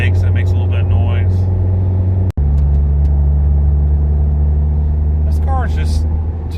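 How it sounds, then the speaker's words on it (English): A Toyota Yaris with open intakes and a limited-slip differential upgrade drones loudly and steadily, its low engine hum broken by one brief cut partway through. "I got my open intakes, and it makes a little bit of noise."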